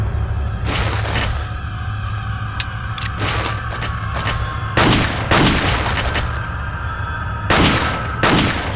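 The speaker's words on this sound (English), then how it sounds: "Only thing I've got left is this fucking pistol." Pistol shots in Resident Evil 4 ring out loud and sharp, spaced a second or two apart over a steady low game rumble.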